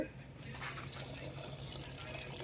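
Water being poured and stirred into paint in a bucket, a steady splashing, sloshing wash close by with a low hum underneath, continuous throughout.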